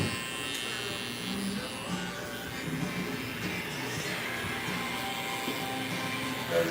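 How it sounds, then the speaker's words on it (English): An electric hair trimmer buzzes steadily and close up while a fade haircut is cut, its drone wavering slightly as it moves through fine hair. "You gotta have confidence in your trimmer if you're doing stuff like this."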